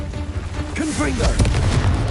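Confringo blasting spell going off in Hogwarts Legacy: a heavy boom bursts out mid-clip over a busy game soundscape, with a tonal, voice-like sweep just before it.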